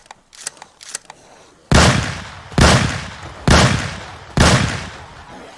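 A shotgun fires four loud, evenly spaced blasts in Project Zomboid, each boom decaying quickly, after a few softer mechanical clicks and thumps.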